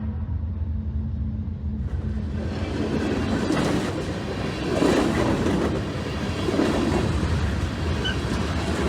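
A train rumbles past close by on the tracks, a steady heavy roar with rhythmic clacking of wheels that swells and holds.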